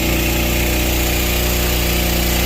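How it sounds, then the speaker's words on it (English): Seeder auger briefly run in reverse, a steady mechanical drone with a low harmonic hum and whirring motor throughout, loud and close with no talking. "Bump the auger backwards."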